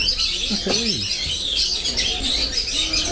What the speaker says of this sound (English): we're in this like bird aviary. And loads of these little birds everywhere